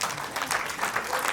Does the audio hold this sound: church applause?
yes